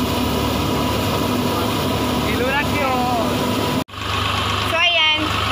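A tractor-driven wheat thresher runs loudly and steadily as wheat husks are fed in on a dusty tribal farm, a constant engine drone with a brief cut partway through, while people talk over it.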